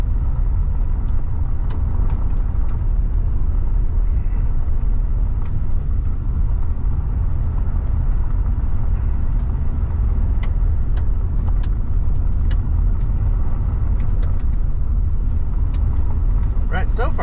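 A vehicle rolls along a gravel country road near Virgin Valley in northwest Nevada, with continuous loud road rumble and scattered crunching ticks from stones throughout.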